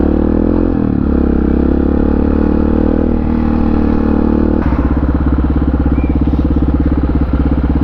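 Honda XR650R supermoto motorcycle running steadily close by, its engine a loud continuous thrum that shifts note partway through as the rider changes speed.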